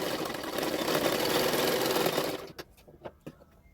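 A sewing machine stitches the neck of a double katori blouse, running in a steady continuous whir for about two and a half seconds before stopping, followed by a few faint clicks and handling taps.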